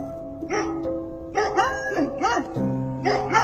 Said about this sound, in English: they got a bunch of dogs.